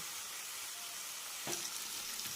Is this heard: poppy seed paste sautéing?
yes